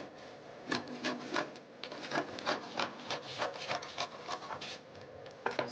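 Scissors cut through a paper pattern for a unisex collared shirt, a steady run of close, crisp snips and rustles with no talk.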